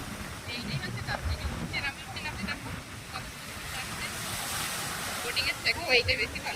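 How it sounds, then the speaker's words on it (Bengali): Waves wash ashore at Chavakkad beach in Kerala with boats out on the water nearby, a steady surf roar mixed with wind buffeting and people talking in the background. "বোটিং এর থেকেও এই যে ঢেউটা দিচ্ছে ভালো লাগছে"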